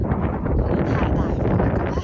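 Strong wind buffets the microphone on a mountain trail in Jasper, Canada, a constant, loud roar filling the whole clip with no pauses.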